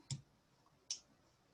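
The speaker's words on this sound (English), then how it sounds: "To trim it, I'm using these precision scissors." Precision scissors snip beading thread for an Art Deco fan necklace of two-hole Czech beads, two faint, crisp clicks nearly a second apart in a quiet room.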